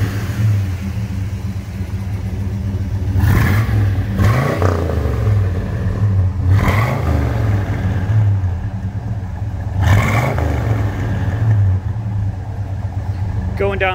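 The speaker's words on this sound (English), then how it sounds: "Let's go to the back so you can hear the exhaust." Loud exhaust roars from behind a 1972 Pontiac GTO Judge as its engine is revved in four sharp bursts over a deep idling rumble, heard up close.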